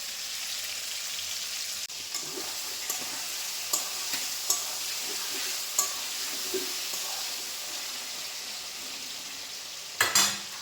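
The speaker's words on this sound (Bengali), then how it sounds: "এদিকে মাংস ফ্রাই করছি আগে" Meat fries in a pan for a home-cooked Bengali fried rice dish, a soft steady sizzle with occasional scrapes and clinks of a utensil against the pan, a louder clatter near the end.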